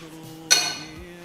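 A small metal cooking pot clinks once in a kitchen, a single bright ringing knock that fades over a fraction of a second against a quiet background hum.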